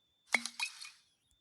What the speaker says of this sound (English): Let's use like a bottle cork, the cork of a bottle.